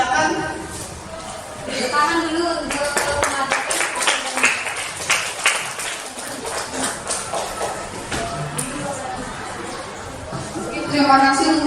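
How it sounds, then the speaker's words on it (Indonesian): Applause from an audience at a school training dissemination session, a dense run of many hands clapping that swells and thins over about twelve seconds, with crowd chatter and voices mixed in throughout. "Tepuk tangan dulu untuk"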